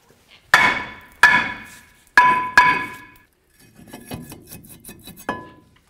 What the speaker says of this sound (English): give it a couple loving bonks, and drive it away